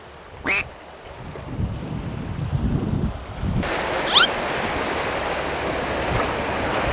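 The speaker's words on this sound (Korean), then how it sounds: "생각보다 파도가 세요" Surf on the southwest coast of Jeju washes in a steady low rush, with wind noise and a couple of brief, sharper calls above it.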